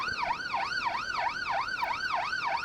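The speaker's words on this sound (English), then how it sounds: "A classic two-tone." A classic two-tone London ambulance siren from the Ambulance Life video game wails in a steady, continuous alternating pattern, loud and clear with no voices over it.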